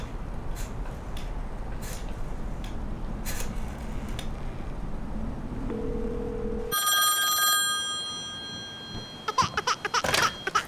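A telephone ringing in a dubbed Hollywood action film, bright repeated electronic rings entering after a stretch of background noise and continuing close and loud to the end.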